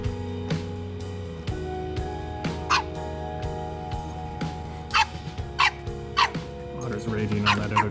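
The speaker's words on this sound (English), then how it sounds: "Raging on that other dog" A dog on a hiking trail barks repeatedly at another dog in sharp, closely spaced bursts, with a few yips between, close and clear over quiet surroundings.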